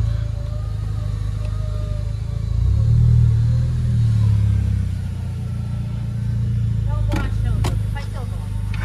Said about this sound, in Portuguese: Dá um borrachão, Dub.